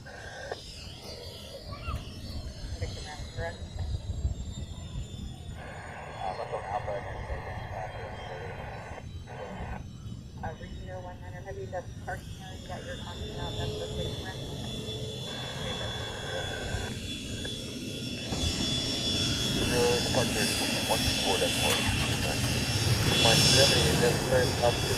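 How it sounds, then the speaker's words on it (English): A C-17 military jet starting its takeoff roll, a broad engine roar that builds steadily louder toward the end, with a person talking over it throughout. "that first, technically the second C-17 has started to roll"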